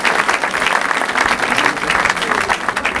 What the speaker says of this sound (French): On acclame le Seigneur pour sa vie.